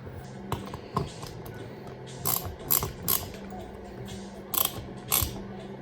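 Allen key working the screws on a trolling motor, giving a series of small ratcheting clicks and metallic ticks in scattered bursts, close and moderately loud, with no talking.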